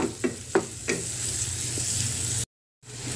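Onion sizzles steadily in a hot pan, with a few soft stirring knocks early on over the constant frying hiss, close by and fairly loud, briefly cutting to silence before resuming.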